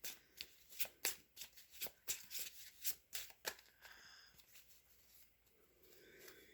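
Tarot cards are riffled and shuffled by hand in a quick run of crisp flapping bursts, close and quiet, before trailing off into soft handling.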